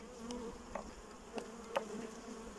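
Honeybees buzz steadily around beehive frames being inspected outdoors, a close, continuous hum with a few brief clicks and knocks of handling, no talk.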